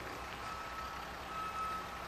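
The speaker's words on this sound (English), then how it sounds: "Trucks load and unload here, backing into bays that once were railroad spurs." A truck backs into a loading bay at an old railroad terminal, its reversing alarm giving a few steady, evenly spaced beeps over a constant low engine hum and outdoor noise.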